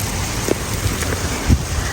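Rain falls steadily in daylight sunshine, a dense even hiss close by with a few heavier drops and splashes standing out.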